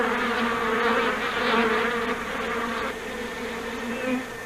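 A swarm of bees, calmed with smoke during a beekeeping demonstration, gives off a dense, continuous buzzing that holds steady and close for several seconds without speech.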